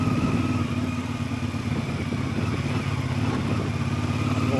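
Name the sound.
motorcycle riding on road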